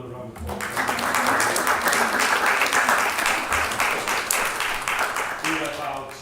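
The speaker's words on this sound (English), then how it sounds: "let's give them another round of applause" Audience applause at a city council meeting, a steady full clapping from a room of people lasting several seconds, with voices faintly underneath.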